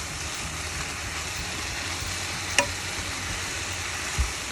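Pork with bamboo shoots stir-fried in a pan, a steady close sizzle running throughout, with a sharp clink of the utensil near the middle and a soft knock toward the end.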